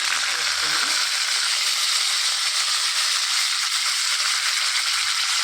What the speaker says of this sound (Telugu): ఆయిల్ వేడెక్కిందండి ఇందులోనికి తాలింపు గింజలు అన్నీ కలిపినవి తీసుకున్నాను